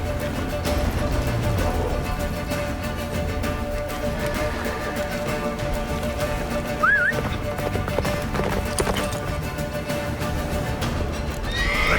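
Roach, the horse in The Witcher 3 during the battle of Kaer Morhen, gallops with steady clip-clop hooves and a short whinny, mixed with a constant storm-like wash of sound and no talking.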